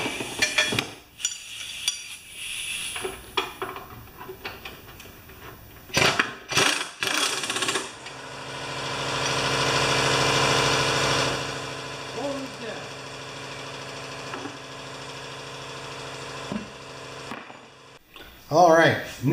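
A Briggs & Stratton engine on a Pulsar Prime lawn mower, freshly serviced with a new air filter, changed oil and a balanced blade, starts amid clanks and handling noises, then runs loudly for several seconds before dropping back.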